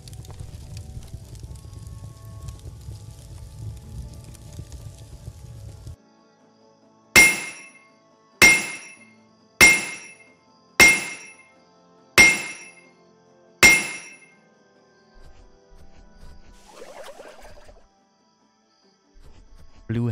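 Six evenly spaced, ringing hammer strikes on metal while forging a new hammer in My Little Blacksmith Shop, a video game, follow a low rumbling fire-like hum and end with a faint chime.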